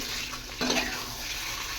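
Mutton being sautéed (kosha) in a small wok gives off a steady, close hiss of frying that runs without a break, with a brief surge partway through.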